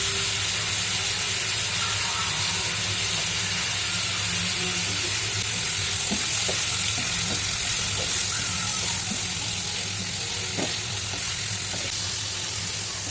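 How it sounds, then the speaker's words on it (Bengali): Fish sautéing in a hot pan with salt, giving a loud, continuous close-up sizzle with steady hiss and occasional stirring scrapes throughout. "মাছ কষানোর সময় কিন্তু লবণ দিতে হইবে"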